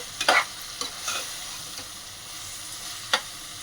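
Mushroom curry stirred in a hot pan: a few sharp scrapes and clinks of a spoon over a low, steady sizzle, with quiet gaps between strokes.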